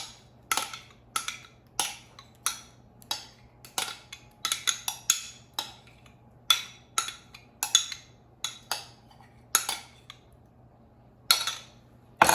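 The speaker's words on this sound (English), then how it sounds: "And mix everything together." A utensil clinks and scrapes in a bowl while apple coleslaw is tossed with a mayo and apple cider vinegar dressing, producing a dozen or more irregular, crisp taps over quiet background.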